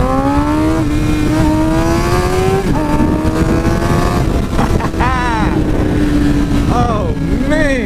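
A motorcycle with a freshly flashed ECU revs hard and accelerates through a turn, its engine note climbing steadily in pitch, loud and close, with brief shifts and a voice talking over it.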